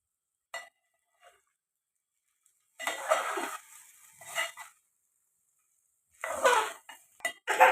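Metal utensil scraping and clinking in a pan as rice is tipped in and stirred with ground coriander and garam masala, in a few short bursts separated by quiet gaps.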